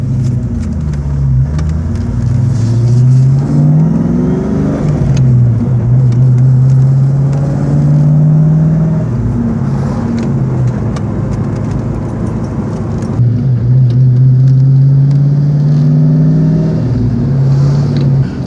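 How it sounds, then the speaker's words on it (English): A manual-transmission car driving, its engine droning loud and close with rising revs that drop at each gear change, steady road and cabin noise throughout. "I'm driving a manual right now."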